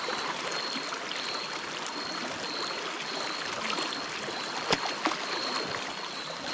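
Cold river water rushing past a wild motocamping site, a steady broadband hiss of flowing current with a couple of small splashes near the end, no talking.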